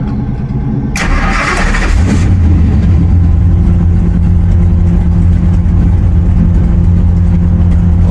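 A NASCAR stock car engine at Daytona bursts to life with a loud starter crank and roar, then settles into a deep, steady, rumbling idle close by.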